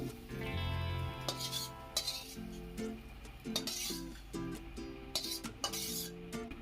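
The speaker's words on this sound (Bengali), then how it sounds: "এইবার আমি পুরো পাতাটা চিংড়ি মাছটা আমি ধীরে ধীরে বেটে নিব সবটা" Bottle gourd leaves and shrimp being ground by hand in a bowl, heard as intermittent scraping strokes and light clinks under prominent background music.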